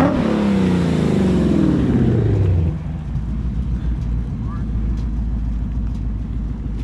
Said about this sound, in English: God, the Mach 1 sounds vicious.